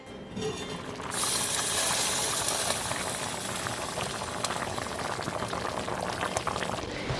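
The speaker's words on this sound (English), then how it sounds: "we're gonna bring this up to a simmer" A pot of chicken and dumpling soup comes up to a vigorous, continuous bubbling boil after a brief quieter second, dense and close throughout with no voices.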